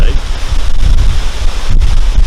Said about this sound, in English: It's real windy out here today.